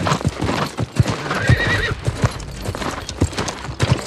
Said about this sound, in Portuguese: dá pra chamar o cavalo